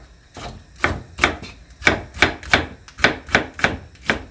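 A knife chops green onion and chili peppers on a cutting board in a quick series of about a dozen sharp chops, close and fairly steady, with no talking.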